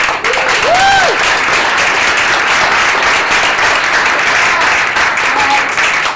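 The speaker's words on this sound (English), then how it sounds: "Big round of applause." Dense audience applause at a startup demo day, loud and sustained with a continuous wash of clapping and a few whistles and cheers near the start.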